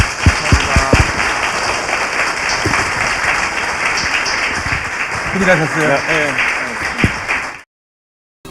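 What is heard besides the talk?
audience applause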